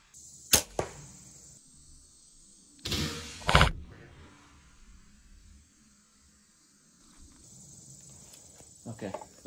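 Archery arrows released at a target outdoors in Appalachian woods: a sharp thwack near the start, then a louder release and impact pair around the middle, with a faint crackle of movement and another soft hit near the end over quiet ambience.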